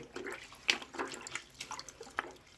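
An aquarium internal filter sponge is washed and squeezed in a container of tank water, making irregular splashes, drips and sloshes close by, with a few sharper squelches.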